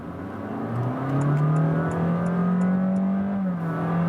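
Hybrid engine of a 2021 Honda Jazz e:HEV accelerating from 40 to 80 km/h, a steady rising drone with a sustained engine tone that climbs and then holds, heard from inside the cabin with no talk.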